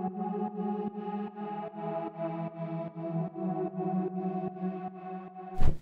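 Sustained synth pad chords hold steady under a pulsing hardstyle beat with regular sidechained kick hits, ending with a brief bright burst.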